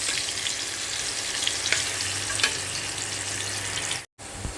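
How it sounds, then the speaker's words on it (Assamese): Potatoes frying in oil with turmeric powder, a dense, steady sizzle close up with occasional faint clinks of stirring, cutting out briefly near the end. "আলুখিনি মই ৰঙচুৱাকৈ ফ্ৰাই কৰি ল'ম।"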